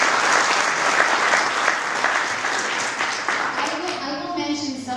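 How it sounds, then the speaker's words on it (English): Sustained audience applause at a community arts center anniversary and renovation celebration, a dense wash of many hands clapping that thins near the end as voices rise. "So give yourselves a round of applause"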